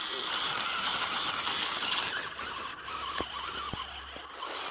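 A small 370 electric motor with a single speed gearbox runs at full speed, giving a steady high-pitched whine with a few brief clicks near the end.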